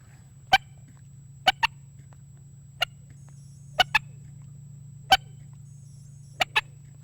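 A handheld turkey call produces sharp, isolated clucks imitating a turkey, some single and some in quick pairs, spaced irregularly over a low steady hum.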